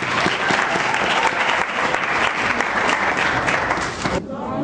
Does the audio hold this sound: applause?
yes